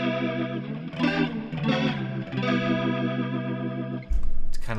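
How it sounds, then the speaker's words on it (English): A guitar through an Axe-Fx III rotary effect plays sustained notes with a swirling, wobbling chorus and a shimmering, warbling tone, then a heavier low chord enters at the end. "It's kind of like that chorusy effect"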